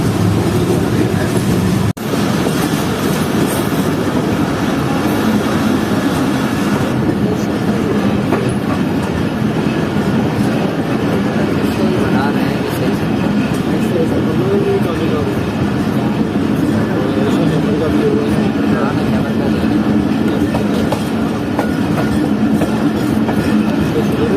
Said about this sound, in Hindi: तकरीबन 9:30 बजे हमारी ट्रेन पहुंच रही है घोटकी रेलवे स्टेशन पर